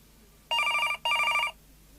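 A room telephone rings twice in a row, two bright trilling bursts separated by a brief gap, close and loud against a quiet background with no voices.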